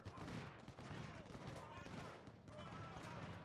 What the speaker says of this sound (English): But the artillery's going to keep blasting away at him